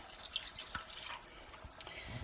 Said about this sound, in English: I am going to add another cup of water